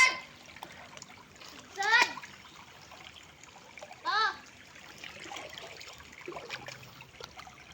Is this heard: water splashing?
yes